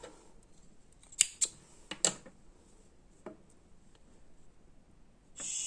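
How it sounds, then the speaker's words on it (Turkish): Small scissors snip crochet yarn in a few sharp, close metallic clicks spaced over a couple of seconds, with quiet handling sounds between cuts. "şöyle ipimi buradan kopartacağım"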